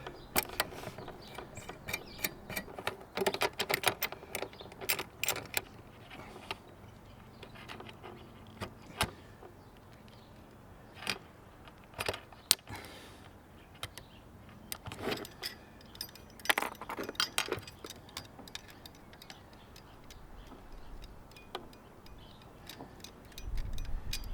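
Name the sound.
loosening sailboat rigging turnbuckles one by one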